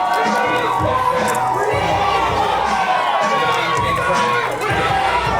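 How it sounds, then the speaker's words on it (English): A lively wrestling arena crowd roars and cheers at a retro pro wrestling show, dense continuous shouting and clapping with occasional thumps. "The crowd is just electric. They're downright jubilant."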